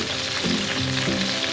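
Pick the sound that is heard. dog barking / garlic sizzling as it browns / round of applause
garlic sizzling as it browns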